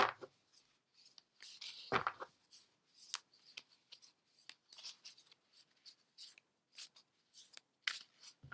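A deck of Quantum Oracle cards being shuffled, giving soft, quiet riffling and rubbing with repeated brief bursts over about eight seconds.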